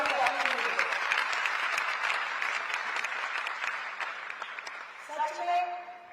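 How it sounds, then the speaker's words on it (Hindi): An audience at a university convocation ceremony claps loudly and steadily, the applause gradually thinning, with a voice heard over the clapping near the start and again near the end. "इसलिए चाहूंगी कि एक बार जोरदार तालियां आप सभी के लिए।"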